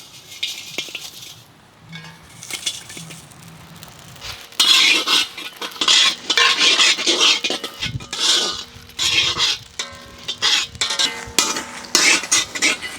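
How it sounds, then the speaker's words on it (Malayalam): Whole spices roast in a hot pan at a village outdoor cooking setup: quiet at first, then a loud run of scraping stirs and dry rattling clatter as they are tossed, close and busy. "ചട്ടി നന്നായി ചൂടായി വന്നിട്ട് നമുക്ക് ഇതിൽ സ്പൈസസ് അങ്ങോട്ട് ഇട്ട് കൊടുക്കാം"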